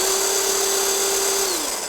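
A Craftsman 20-volt 6-inch battery pruner chainsaw runs with a steady, high electric whine and chain whir, close and loud, then the motor pitch dips and winds down at the end.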